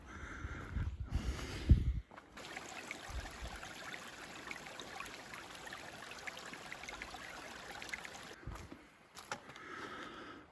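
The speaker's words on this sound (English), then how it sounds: "I can hear Minister Creek down there" Minister Creek flows somewhere below in a wooded valley, a faint, steady rush of distant water lasting several seconds, framed by a few nearby bumps and handling noises at the start and end.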